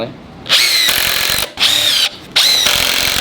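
A power drill drives screws into the walls of a 2,500-gallon freshwater pond in three loud, close whirring bursts separated by brief pauses.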